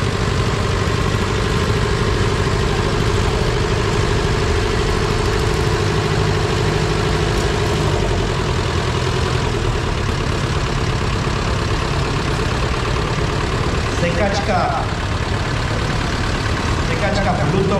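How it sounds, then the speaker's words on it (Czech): The engine of a Pluto lawn mower runs steadily as the machine arrives at a tractor show, a continuous low idling drone with a throbbing tone, under a loudspeaker voice talking. "Sekačka Pluto Petra Sikory nám tam teď přijela"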